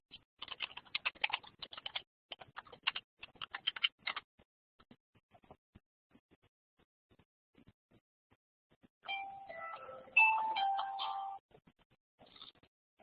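Rapid keystrokes clatter on a computer keyboard in a quiet room, a dense burst of typing, then a few scattered taps and a short electronic chime near the end.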